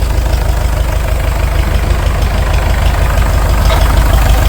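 International TD-6 crawler tractor, its diesel engine recently freed after being locked up, idles steadily with a deep, even low rumble and chug that stays close and loud throughout.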